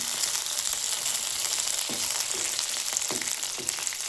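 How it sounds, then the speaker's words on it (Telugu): Chopped tomatoes and green chillies frying in hot oil in a pan, a steady close sizzle with a few soft stirring scrapes. "టమాటాలు నూనెలో ఫ్రై చేసుకుందాం. పచ్చిమిరపకాయలు వేసేసిన ఇవి ఫ్రై చేసుకోవాలి మంచిగా."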